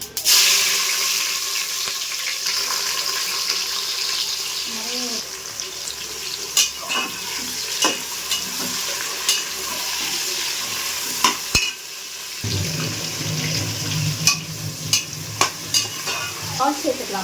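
Sliced onions frying in oil in a pot for mushroom biryani, a long steady hiss of sizzling with scattered clicks and scrapes of stirring, growing denser and louder near the end, with no talking.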